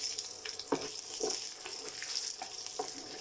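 Dried red chillies fry in a pan for a Tamil mint and coriander chutney, a soft steady sizzle with a few faint stirring scrapes, quiet and close.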